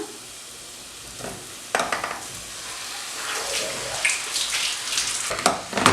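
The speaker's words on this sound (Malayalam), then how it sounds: "കപ്പ ഞാൻ ഇതിനകത്തേക്ക് ചേർത്ത് കൊടുക്കുകയാണ്." Cooked tapioca is stirred and mashed into a masala in a pan. A quiet sizzle runs underneath while a spoon scrapes and knocks, and the stirring grows busier and louder toward the end.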